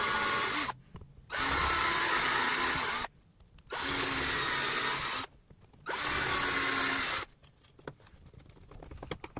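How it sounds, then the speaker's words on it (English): A power drill with a 3/16 drill bit pre-drills holes in wood, whirring in three steady bursts of about two seconds each with quiet gaps between, followed by soft handling clicks. "what I've got is a 3/16 drill bit, which is just the right size to pre-drill the holes for this"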